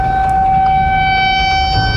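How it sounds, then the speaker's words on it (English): Steady tornado warning siren wailing during a storm in Alabama, a sustained loud tone held without pause over a low rumbling background, with no talk. "Sirens blaring, that ominous warning in Alabama that a deadly tornado was on the way."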